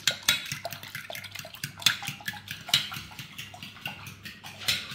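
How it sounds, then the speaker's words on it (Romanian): Eggs beaten with water and a pinch of salt in a bowl for Hungarian-style flour dumplings, a utensil clattering and scraping against the bowl in quick, uneven strokes, close and fairly quiet. "Și acum batem foarte bine, trebuie amestecat ou cu sarea și cu apa"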